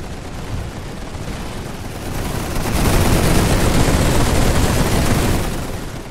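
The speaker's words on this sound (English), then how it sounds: "The machine guns are so damn loud, aren't they?" Dense machine gun fire from a WWI strategy game, set on a Russian steppe front, crackles as a continuous roar that swells louder after about two seconds and holds steady, with no voices.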